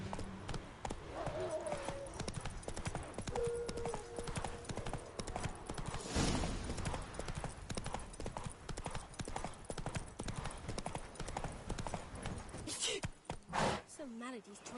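Roach the horse's hooves clip-clop in a steady, close trotting rhythm in The Witcher 3, with a voice and other game sounds running over them.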